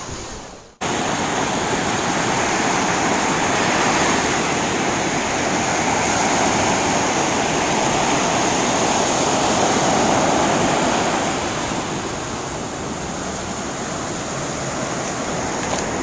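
Continuous roar of Pacific Ocean surf at Santa Monica pier, broad and steady, swelling slightly midway before easing, with no talk heard.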